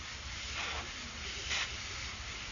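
An airbrush spraying paint gives a steady soft hiss that swells in a few brief bursts, close and fairly quiet, without talk.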